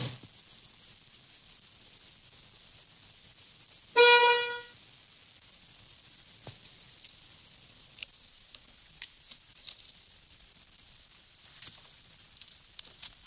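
One short, loud car horn honk sounds once in a quiet setting during a test of a previously faulty horn, its connector bridged with the ignition on, followed by scattered faint clicks and ticks.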